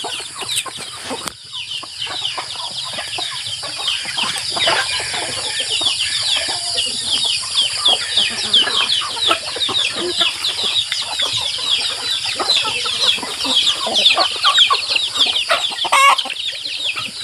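Chickens cluck and chatter steadily on a rural farm, a dense flock of overlapping calls running continuously at close range with no talk over them.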